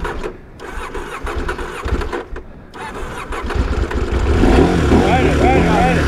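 An adventure motorcycle engine cranks and catches, rising from sputtering starts into a steady louder idle rumble, with people talking nearby over it.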